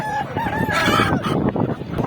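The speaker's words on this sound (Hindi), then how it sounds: "प्योर असील मुर्गा" A purebred Aseel rooster at an animal market crows close and loud, a single drawn-out cock-a-doodle-doo with rising and falling pitch over faint background noise.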